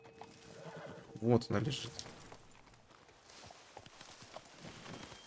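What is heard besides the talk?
horse neighing and hooves in the video game Red Dead Online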